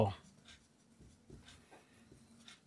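A pen scratches across paper in short strokes during a class 9–10 math lesson, soft and close, while a teacher talks over it.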